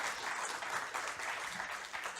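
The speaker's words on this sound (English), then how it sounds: "I think it deserves a round of applause." An audience at a FreedomCon Israel talk applauds together in a brief, faint, dense patter of clapping that holds steady from start to finish.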